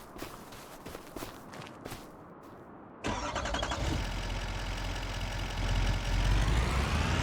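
Footsteps thud briefly before a truck engine in Farming Simulator 25 fires up abruptly, then settles into a loud, steady, close-up rumbling run that holds to the end.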